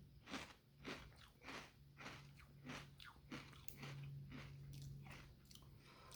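Crunchy Cocoa Pebbles Crunch'd cereal is chewed close to the mic, with a quick series of rhythmic, crackling bites and crunches at a low level, no talk.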